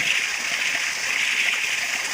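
Fast rainwater rushing after heavy rain near a dam, a constant broadband roar of flowing water, close and steady throughout with no voices.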